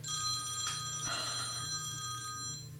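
A telephone rings during a recording session, its bright electronic trill sounding in two short bursts over a low steady hum in the room.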